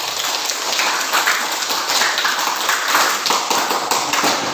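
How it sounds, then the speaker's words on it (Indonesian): Hands clapping in a school classroom, a dense, loud, steady patter of many claps with no pauses. "tepuk tangan untuk kalian semua"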